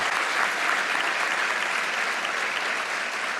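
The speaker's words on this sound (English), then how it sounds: "it's just for an applause break" Dense, steady applause from a large audience fills a banquet hall at the White House Correspondents' Dinner, a sustained applause break without a pause.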